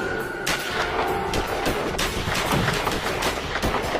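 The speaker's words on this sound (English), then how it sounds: "The crook's weapon discharges." Gunfire during a drive-thru robbery shootout, several sharp shots in quick succession, loud and reverberant, followed by a dense, noisy stretch with no talk.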